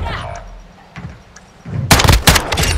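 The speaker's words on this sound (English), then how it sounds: "Stand by to detonate." Set explosive devices detonating in quick succession, a cluster of loud, sharp blasts arriving close together toward the end after a quieter rumbling stretch.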